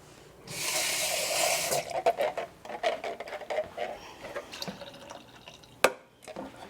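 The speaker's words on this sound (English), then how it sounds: "I like to add just a little bit of water to it." Water pours into a pot of pasta sauce in a home kitchen, a steady splashing burst for over a second followed by scattered drips, clinks and small stirring sounds, with one sharp knock near the end.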